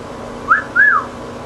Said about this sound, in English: you need to know how to whistle